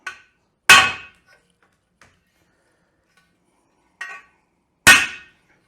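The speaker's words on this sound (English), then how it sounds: "A few more hammer blows" A hammer strikes metal to bend it while a mobile forge is built in an apartment: four sharp, close blows in two pairs, separated by quiet gaps.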